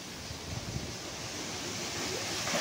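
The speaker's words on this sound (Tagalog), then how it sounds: "Parang dumarating na yung bagyo ah." Strong typhoon wind roars steadily around a house, a broad continuous rushing noise that builds slightly toward the end, with no voices.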